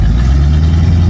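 A GAZ-66 truck stuck in a deep rut, its engine droning in a heavy low rumble, loud and close for a brief steady moment with no talk.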